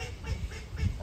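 Ducks in a farm pen at an open-air living museum quack in short repeated bursts at close range, with no talk over them.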